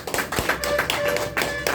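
An audience gives applause for Ashok sir at an event, a short burst of scattered, uneven hand claps at moderate loudness, with no talking over it.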